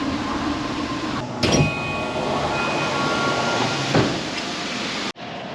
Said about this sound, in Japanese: モノレール18分ほど乗ってついに羽田空港第3ターミナルに到着しました。